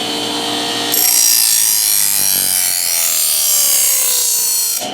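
A knife blade is drawn across a DIY budget sharpener in one long, loud rasping scrape, close up and alone, the grinding tone shifting smoothly as the stroke continues.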